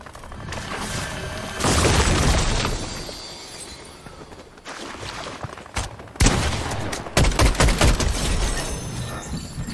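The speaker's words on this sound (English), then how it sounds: "Hearing more shooting close to his position, he goes out in search of more players." Fortnite gunfire close by, with sustained loud volleys, separate sharp cracks and a rattling run of shots near the end, mixed with crashing impacts and no voices.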